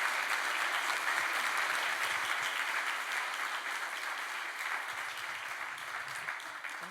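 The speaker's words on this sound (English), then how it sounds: "give our panelists a round of applause" An audience at a digitization conference gives its panelists a round of applause, a broad, sustained crowd clapping that holds steady and slowly thins toward the end, with no voices over it.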